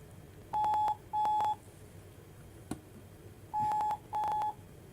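Dual-tone telephone dialing beeps on a call that fails to connect, sounding as two quick pairs of steady tones, a pause with a single click, then two more pairs, clear over faint line hiss.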